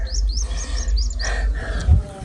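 Young pigeon chicks, roughly ten to fifteen days old, give a series of short, repeated high chirping calls, fairly close and clear over a low background rumble.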